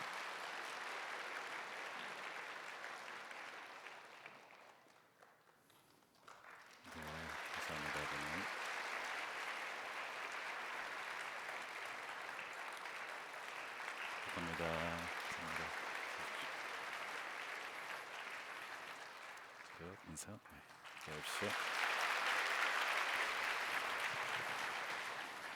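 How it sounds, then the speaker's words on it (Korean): A church congregation at a Sunday worship service claps together in sustained applause, with brief pauses and a few low interjections in between, swelling louder near the end. "다시 한번 임원분들을 위해서 큰 박수해 주시기 바랍니다."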